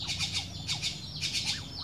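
Common myna, a starling, gives repeated harsh squawks and chirps in short bursts, fairly near and clear against a quiet background, with no talking.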